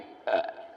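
One short, throaty burp comes out during a yoga abdominal exercise, close up and alone against a quiet room.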